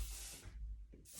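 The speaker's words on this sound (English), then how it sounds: "One final spray before I brush them out of the" SkyScraper hairspray sprayed over freshly styled curls: two close, steady hissing bursts, one long and one shorter, separated by a brief pause, with no talking.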